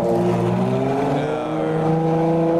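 A Ferrari FXXK supercar engine roars loud and close at a supercar show, a sustained high revving drone that holds steady throughout with no speech over it.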